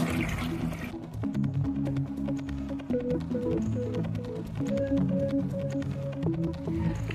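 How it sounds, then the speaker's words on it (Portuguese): Water runs into a toilet cistern as the float valve rises, a continuous gurgling, trickling fill with bubbling tones close by, steady throughout and free of speech. "A água está entrando e a boia, a hora que a água começar a encostar na boia, ela começa a levantar a boia para cima."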